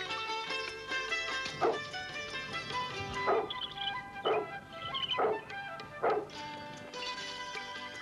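Several dogs bark in short loud bursts at a large mansion, about five sharp yelps spaced across the stretch over a steady musical background.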